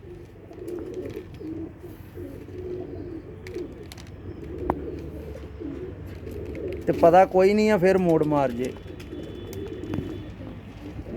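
Pigeons coo on a rooftop loft, a short rippling burst of calls rising clearly for a second or two in the middle, with someone talking before and over it.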